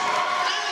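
Crowd at the British Lead Championships 2025 climbing final roars for the climbers, a loud dense wall of cheering and shouting close by, sustained through a brief moment.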